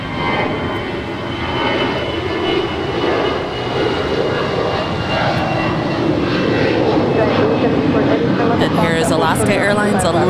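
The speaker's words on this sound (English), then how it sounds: "Alaska Airlines 1147 heading to Seattle. It is an A320 delivered in January 2012" An Alaska Airlines Airbus A320 jet, delivered in January 2012 and bound for Seattle from LAX, gives off a loud sustained engine roar that swells and stays up, with a hiss of airflow layered on top.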